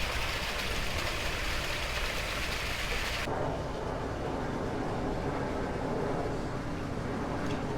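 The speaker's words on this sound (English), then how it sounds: "And the sound of the water is so relaxing." Steady water flowing in a small garden koi pond in Texas at night, a continuous loud wash of splashing and trickling that fills the whole stretch without pause, with no voices over it.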